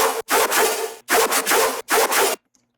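A heavy dubstep bass synth patch played dry, without its resonant effect rack: three loud, gritty bursts, each broken into two or three rough, buzzing chops, followed by silence.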